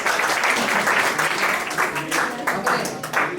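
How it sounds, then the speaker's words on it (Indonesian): A crowd claps steadily for a few seconds, a dense patter of many hands with uneven bursts. "beri tepuk tangan untuk"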